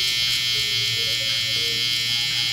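Electric hair trimmer buzzing steadily and close up as it cuts stubble during a skin-taper haircut, a constant high whine with no voices.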